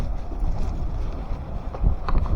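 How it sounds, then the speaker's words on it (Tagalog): Steady blustery wind roars and buffets the microphone, a continuous rough rush with gusts swelling toward the end. "Lakas ng hangin."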